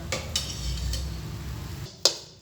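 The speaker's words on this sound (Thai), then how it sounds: "อันนี้ผมก็จะคั่วไปก่อน คั่วไปเรื่อย ๆ นะครับ" Taro and coconut milk get stirred in a pan with a few close scrapes and clinks of a utensil on metal, and a sharp knock near the end.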